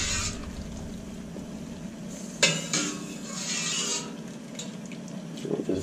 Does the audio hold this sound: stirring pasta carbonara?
yes